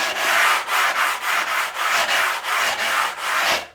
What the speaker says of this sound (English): a little bit of a tickle up with some sandpaper